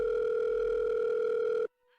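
Steady telephone dial tone holds for under two seconds as a call is placed, then cuts off abruptly into near silence.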